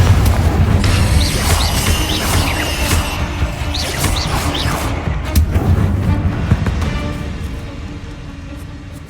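A Confringo blast spell explodes in the Hogwarts Legacy video game: a loud, booming burst with crashing, crackling debris and lighter magical whooshes, fading away over several seconds.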